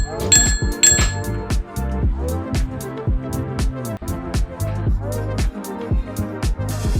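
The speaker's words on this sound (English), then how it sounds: "I got a bell. It looks great and has a nice crisp sound." A bicycle bell gives two quick, crisp dings near the start, heard over louder plucked background music that continues throughout.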